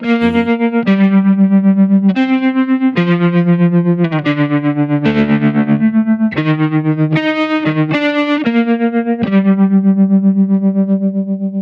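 Electric guitar through a Kemper Profiler, playing a sustained melody, each note pulsing with a rapid, even tremolo throb; loud and distorted, with no voices.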